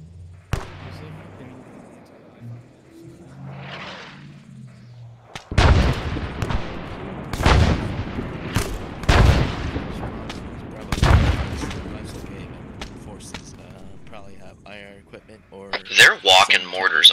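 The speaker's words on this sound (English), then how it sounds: "They're walking mortars onto us." Mortar rounds walk onto a squad in ArmA3, a string of heavy, close booms with rumbling tails, four or five big impacts after a quieter start, while people talk.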